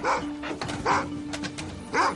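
A Connecticut police K9 dog lets out three sharp, close barks with short gaps between them, standing out clearly with no voices.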